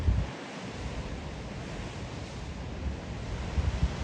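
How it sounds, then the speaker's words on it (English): Steady roar of ocean surf on the Oregon coast with low wind rumble, waves washing continuously and heavier low thumps of water surging up through a rock hole near the start and end. "That's a hole right there that comes up under and splashes"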